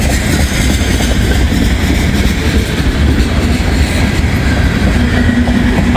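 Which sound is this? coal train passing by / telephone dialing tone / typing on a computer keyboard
coal train passing by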